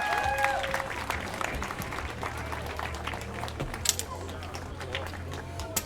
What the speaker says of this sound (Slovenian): No tudi to si zasluži velik aplavz.